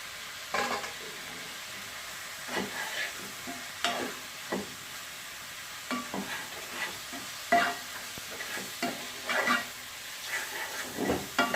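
Chicken, onion and capsicum stir-fried for chowmein in a hot pan, with a steady background sizzle broken by repeated scraping strokes of a spatula at an uneven rhythm, close and moderately loud, without speech.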